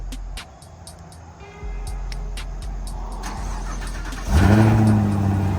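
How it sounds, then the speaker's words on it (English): Chevrolet Camaro ZL1 1LE cold start: after a few clicks and chimes, the starter catches and the engine fires loudly near the end, settling into a raised, rumbling idle close by. "Let's get a cold start while we out here."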